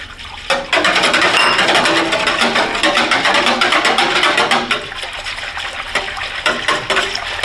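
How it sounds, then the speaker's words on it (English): A whisk churns briskly through about two gallons of salted water while sugar is poured in for a turkey brine, a loud, close, continuous sloshing with a fast rhythmic beat of strokes. "I'm going to whisk that up a little. And as I whisk, I'm going to pour into that the 1 cup of the ultrafine sugar."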